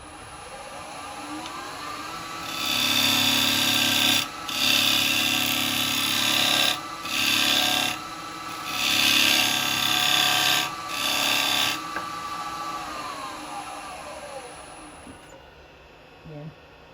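A box hollower scrapes and rasps into spinning wood on a lathe, loud and close in several cuts of a few seconds each separated by brief pauses, over a steady lathe motor hum that later winds down.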